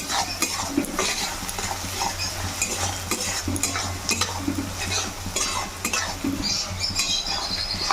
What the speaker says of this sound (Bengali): এবার রসুনটাকেও ভালো করে ভেজে নেব।